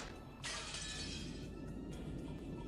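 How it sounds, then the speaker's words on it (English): Glass window smashed by an antique chair as a visual novel sound effect, a sudden loud shatter followed by a sustained crash and scattering of shards, then a second smaller burst near the end. "The glass smashed with a violent sound, and the frame groaned and creaked."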